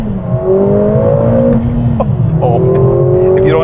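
A 2021 Mercedes-AMG GLA 45 engine revs up under throttle in a rising, growling whine, with a few exhaust pops partway through. A voice talks over it close by.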